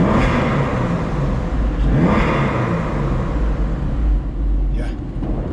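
A 2000 Porsche 996 Carrera 2 Cabriolet's engine and exhaust rev inside a tunnel, giving a deep, booming drone with a couple of swelling throttle blips. It stays loud and close throughout, with a brief vocal sound near the end.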